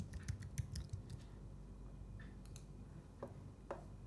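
Quick bursts of typing on a computer keyboard while entering a product name, light rapid clicks at first, then a pause and a couple of isolated keystrokes, close and quiet.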